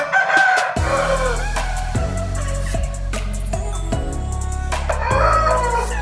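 A year-old rooster of the kodi nemali colour type crows loudly and close by, several drawn-out calls in a row with clucking between them, and no talk over it.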